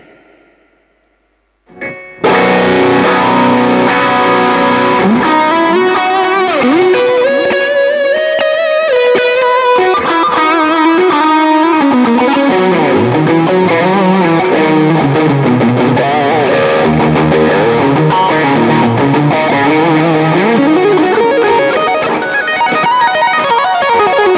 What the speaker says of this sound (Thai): จะมีปัญหาตรงเรื่องของเสียงแตกอ่ะอันนี้คือให้ฟังเสียงแตกนะ